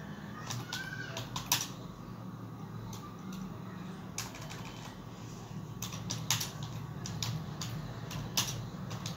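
Steady typing on a computer keyboard while entering text in MS Word, quick irregular key clicks running throughout over a constant low room hum.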